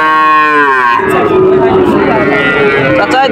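A cow at a busy cattle market lets out a loud, close moo lasting about a second, then crowd chatter and market noise carry on.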